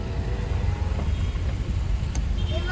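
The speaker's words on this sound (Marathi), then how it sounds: "ट्रॅफिक बघा केवढी आहे." Heavy weekend road traffic on the way to Matheran, a steady low rumble of car engines and road noise filling the whole stretch, with people talking nearby.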